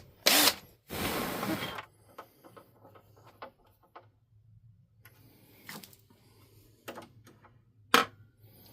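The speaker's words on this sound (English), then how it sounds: "I'm going to drill the other two holes" A power drill bores holes while a part is bolted onto a car body, heard as a couple of loud, short whirring bursts followed by quieter clicks, taps and handling noises close by.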